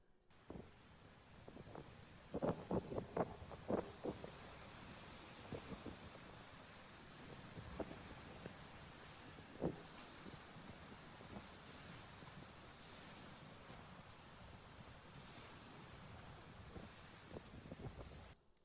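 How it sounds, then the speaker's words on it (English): Wind and ocean surf on a long solitary walk along the coast, with a steady rush of wind buffeting the microphone, broad waves washing in and out, and occasional louder gusts. "It was just the sound of the rain, the wind, the waves."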